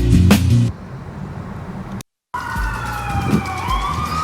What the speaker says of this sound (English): Police sirens everywhere.